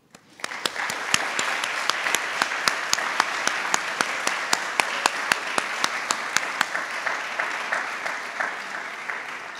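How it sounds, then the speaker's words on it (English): An audience at an annual prevention awards celebration breaks into sustained applause for the honorees, starting suddenly and holding as a steady wash of clapping, with a few sharp, loud claps standing out near the front. "join me in a round of applause for the 2024 Roots of Prevention awardees"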